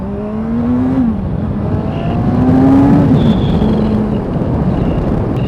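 A 2015 Kawasaki Ninja 1000 accelerates hard at full power, its loud engine note climbing through gears in rising, stepped pitch sweeps under heavy wind roar.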